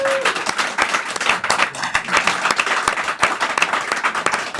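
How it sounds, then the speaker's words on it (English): A studio audience at a live TV show claps loudly and steadily to welcome a guest to the stage, dense close applause lasting throughout with a brief tone at the start. "Give her a cheer up."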